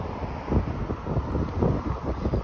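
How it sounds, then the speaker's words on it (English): Gusty wind buffeting a microphone outdoors on Evans Avenue in Toronto, a steady low rumble that swells and dips in short gusts with no talking. "Whoa, it's a little windy out."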